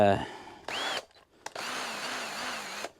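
A power drill in its lowest gear bores into wood, whirring in two bursts, a short one then a longer steady run with a slightly wavering pitch, close and loud, with a brief click between them.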